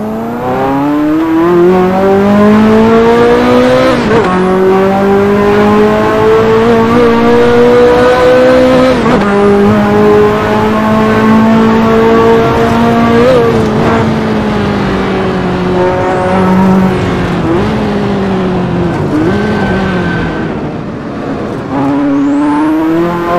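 An unmodified 1980s supercar without traction control or ABS driven hard on a race track, a loud engine revving up and down through repeated gear changes, with rising pulls and sharp shift drops and no talk.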